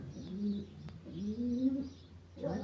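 Pigeons being paired in a coop give deep, rolling coos in two or three close, moderately loud bursts, with a faint chirp between them and quiet surroundings.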